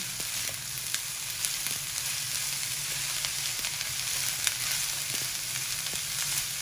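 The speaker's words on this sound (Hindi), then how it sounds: "अब इसको हम अच्छे से तेज आंच के ऊपर कुक करेंगे।" Cabbage, chillies and other vegetables frying over high heat for spring roll filling, a loud continuous close sizzle with scattered crackles and light stirring taps throughout, no voices.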